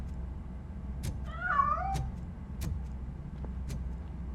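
Cat meowing in RoboCop: Rogue City, one drawn-out, wavering meow in the middle, heard alone over a steady low hum with a few sharp clicks around it.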